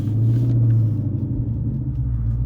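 Manual stick-shift car engine pulling away, a deep steady low rumble with slight throttle variation, close and continuous with no voices.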